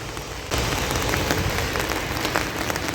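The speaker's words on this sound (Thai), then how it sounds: "ฝนก็ตกฝนตกจังสี่ตลอด" Steady rain falls in a dense, even hiss that starts abruptly after a brief quieter moment and continues loud and close to the end.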